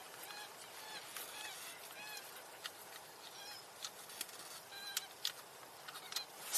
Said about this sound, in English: I think we're hearing a gallinule, but it could be a coot